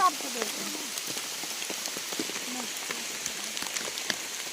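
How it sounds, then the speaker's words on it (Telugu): Steady rain falls all around on a hilltop pineapple farm, a constant hiss dotted with sharp droplet taps, with faint voices now and then. "వర్షం పడుతుంది ఇప్పుడు"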